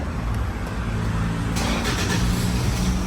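A Toyota Fortuner engine, started with its push-start button, runs as a close, steady rumble with a slight lift in intensity partway through and no voices.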